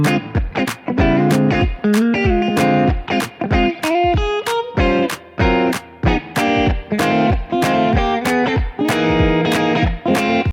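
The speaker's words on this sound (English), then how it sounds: "this is a traditional gospel quartet progression. It's actually a song called I'll Say Yes to My Lord." An electric guitar plays a traditional gospel quartet progression from the song I'll Say Yes to My Lord, with steady strummed chords, crisp percussive attacks and a slightly driven tone throughout.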